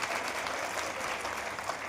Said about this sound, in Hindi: ताली भी बजा लो भाई एक बार